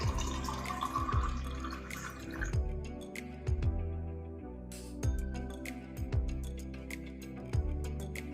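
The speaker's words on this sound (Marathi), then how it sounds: "एका गाळणीच्या आणि चमच्याच्या साहाय्याने याला व्यवस्थित गाळून घ्यायचं आहे" Pomegranate juice pressed through a kitchen strainer with a spoon, heard as close, soft drips and liquid trickles with light scraping and clinks of the spoon against the mesh.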